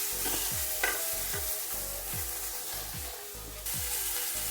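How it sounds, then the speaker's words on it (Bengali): Chopped onion, green chili and ash gourd peel frying in hot oil for a village-style Bengali dish, a steady close sizzle broken by a regular series of spatula scrapes and stirs, about one every half second, with no talking. "দিয়ে দিচ্ছি পেঁয়াজ কুচি, কাঁচা লঙ্কা আর চাল কুমড়োর খোসা।"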